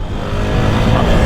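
An Apache 160 RTR motorcycle rides along with a loud, steady engine drone and wind rush that builds slightly, recorded up close.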